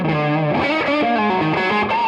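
Gibson Centipede electric guitar through a high-gain distortion tone that stays clear rather than fuzzy, a sustained chordal passage with shifting notes played loud and steady, alone with no talking.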